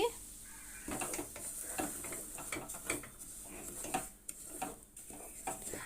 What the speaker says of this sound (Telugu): ఈ బొంబాయి రవ్వను పోసుకున్న దాంట్లో లైట్గా వేయించుకోవాలండి